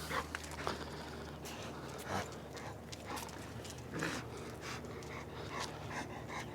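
A dog pants hard at close range, with faint whimpers and scuffling mixed into steady background noise throughout.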